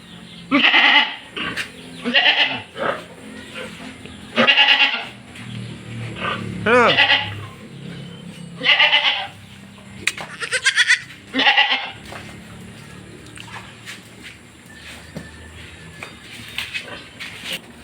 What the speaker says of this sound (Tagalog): Labas natin tong mga alaga nating kambing.